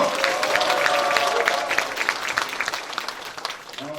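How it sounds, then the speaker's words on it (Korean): Audience at a Democratic Party member education event in Incheon breaks into loud applause mixed with cheering, dense at first and then thinning into scattered claps over four seconds. "좋은 말씀 해주신 우리 남영희 의원님께 뜨거운 박수와 함성 부탁드리겠습니다."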